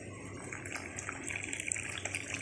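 Water pours steadily into an Egyptian koshari hot sauce of tomato paste, chili, salt, vinegar and garlic, a soft continuous trickling close by that runs for a couple of seconds without talk.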